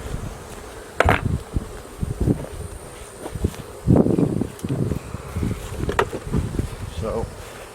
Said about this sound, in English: we got a bunch of bees still in this box